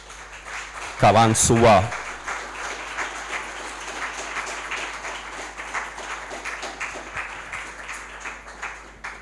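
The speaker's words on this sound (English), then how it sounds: "Please, maybe we can have one more applause." A hall audience gives a guest speaker, Majd Nasrallah, a round of applause at an evening talk in Zagreb. A voice speaks briefly at first, then soft, steady clapping carries on at moderate loudness for several seconds.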